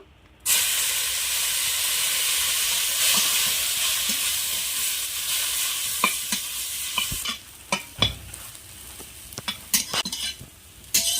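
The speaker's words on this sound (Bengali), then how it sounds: "এবার আমি নিম পাতাগুলো ভেজে নেবো" Neem leaves frying in hot oil: a loud, continuous close crackling sizzle that hisses steadily for several seconds, then settles into irregular popping with a few scrapes of stirring.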